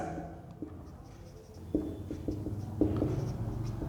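A pen scratches on paper during an accounting lesson, with faint, irregular strokes and taps close by in a quiet room.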